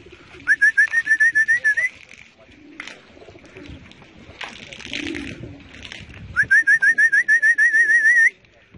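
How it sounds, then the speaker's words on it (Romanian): Two bursts of rapid, warbling whistles from racing pigeons being watered, separated by a stretch of rustling, splashing and faint movement in between. "Domnul delegat dă apă la porumbei."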